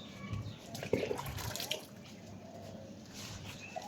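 Water being poured onto potted plants in a rooftop garden, a steady soft splashing and trickling with a few louder drips and sloshes near the start, fairly close and continuous, with faint voices in the background.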